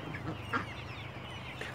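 Chickens cluck at a chicken farm, soft scattered clucks from a few birds over a low steady background hum, with no talking.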